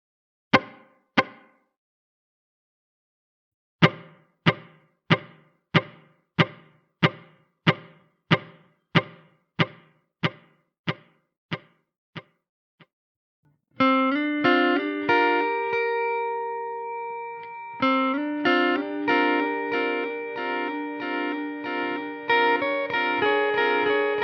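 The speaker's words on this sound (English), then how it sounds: "Let's turn the mix up here so we can hear the delay." Meris LVX delay pedal with the mix turned up, clicky plucked notes repeating in a steady evenly spaced train of echoes, then dense sustained tones layered with repeats.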